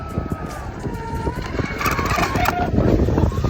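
A Proboat Sonicwake RC boat at full throttle, its high-pitched motor whining steadily on the water and growing louder toward the end, with people talking over it.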